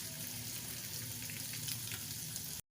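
Pieces of katla fish fry in hot oil in a pan: a steady, close sizzle with crackling pops that runs unbroken, then cuts off abruptly.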